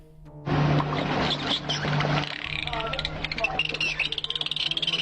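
Dolphins let out a dense burst of squeaks, whistles and chattering clicks that gives way to a rapid run of pulsed clicks, loud and close, with a voice speaking underneath.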